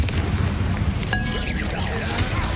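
A Confringo fire spell bursts in Hogwarts Legacy with a loud booming blast over a dense, rumbling game soundscape, a brief high whistling streak trailing through the middle.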